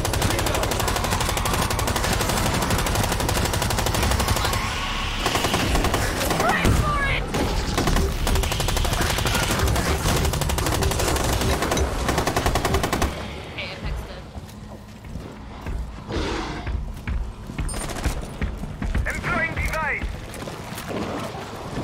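Bursts of automatic gunfire in the video game Rainbow Six Extraction, dense rapid shots for the first half then sparser, quieter firing, with players talking over the action.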